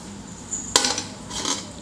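Metal utensils clatter against a pan as a cooked rice flour and egg snack is lifted off it, a brief scrape and clink followed by a softer second scrape.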